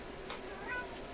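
A house cat gives a single faint, short meow in a quiet room, with no voices present.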